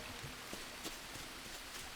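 Rain falling in the survival game Green Hell, a steady, fairly faint hiss of rainfall with a few brief drop-like ticks scattered through it, no voices.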